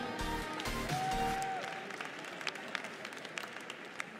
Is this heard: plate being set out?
no